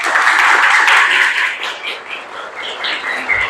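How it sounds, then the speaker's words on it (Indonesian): Classroom audience applause, loud dense clapping at first that thins and fades toward the end, with faint voices underneath. "Tepuk tangan dulu untuk kita semua"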